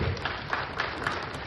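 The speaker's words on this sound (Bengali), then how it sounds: "জোরে হাততালি হোক।" A crowd at a gathering claps loudly and continuously, dense steady applause filling the whole moment with a few sharper peaks.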